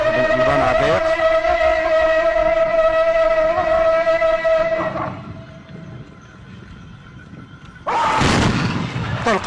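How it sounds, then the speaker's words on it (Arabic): Tbourida horse show at Dar Salam in 2007, where the Casablanca team's riders fire a synchronized musket volley; a sustained tonal drone fades before one loud, sharp blast of massed gunfire erupts near the end. "البنادق وكذلك الطلقة الموحدة."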